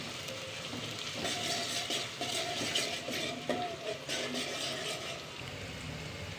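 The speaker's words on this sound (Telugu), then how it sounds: "సన్నగా పొడవుగా తరిగి పెట్టుకున్న ఆనియన్ ఒకటి వేసుకొని మంచిగా కొంచెం కలర్ చేంజ్ అయ్యే వరకు ఫ్రై చేయాలి" Sliced onions frying in a pan for a boti curry, giving a steady, close crackling sizzle with occasional stirring scrapes throughout.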